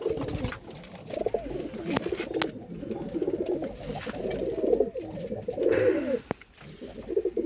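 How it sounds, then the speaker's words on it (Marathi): Pigeons of Punjabi breed coo steadily in a breeding loft holding selected pairs. Several birds overlap in a continuous, moderately close murmur of soft rolling coos with occasional wing flutters. "प्रत्येक जातीचं प्रत्येक नसलचं कबूतर आहे."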